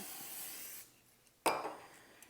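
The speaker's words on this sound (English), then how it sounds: "Make sure you spray it really good, just so the puff pastry doesn't stick." Cooking spray from an aerosol can is sprayed onto a pan before puff pastry goes in, heard as one sharp hissing burst that fades quickly, after a steady background hiss.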